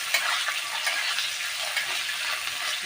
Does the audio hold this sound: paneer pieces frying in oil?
yes